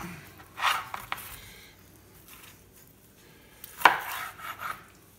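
A knife cuts through smoked spicy ribs on a board, with two distinct chopping thuds separated by a quiet pause and faint softer knocks following each cut.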